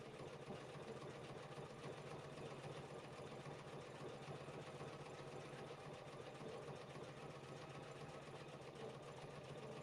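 An embroidery machine stitching out a letter W, running as a steady, fast, even mechanical whir with rapid needle pulses throughout, fairly close and with no talking.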